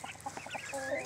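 A hen clucks in short, repeated near calls amid a backyard flock being fed grub and grit, with soft chicken chatter building toward the end.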